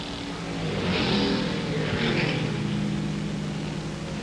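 A 1961 NASCAR Grand National stock car at the Firecracker 250 rumbles steadily into the pit, a continuous engine roar holding at moderate loudness throughout with no talk over it.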